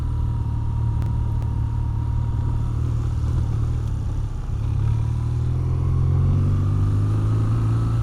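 A 2026 BMW R12 G/S motorcycle ridden off-road, its engine droning steadily close by, then rising in pitch as the rider accelerates.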